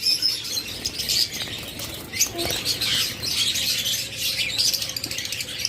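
Budgerigars and lovebirds kept for sale chirp busily in a crowded shop, a dense continuous twittering with occasional wing flutters and cage rustle, fairly close and loud.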